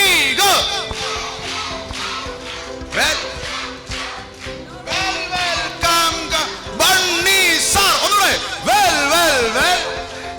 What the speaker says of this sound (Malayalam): ബണ്ണിക്ക് നല്ലൊരു വെൽക്കം ക്ലാപ്പ് കൊടുത്താലും